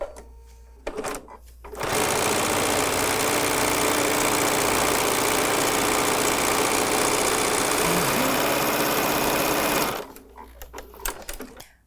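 A sewing machine runs loud and close as it stitches the seams of a fabric bag strap, one continuous whirring run of about eight seconds with a few handling clicks before and after.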